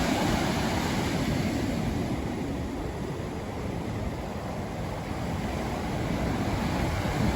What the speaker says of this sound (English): The waves are really high with the storm.